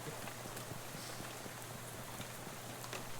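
Rain falls in the video game Shadows Over Loathing, a soft, constant patter of drops with faint scattered taps, quiet and without speech.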